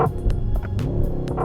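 Synthesized V8 engine sound piped into the cabin of a Mercedes-AMG S63, a steady low throbbing rumble with a droning hum, heard from inside the car with no talking.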